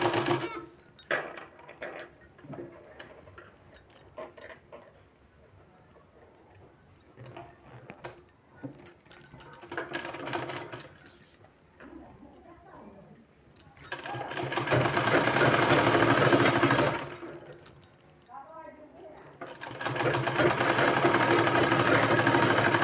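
A sewing machine stitches piping onto a sleeve in two loud, sustained bursts that follow a quieter stretch of handling noise and soft talk.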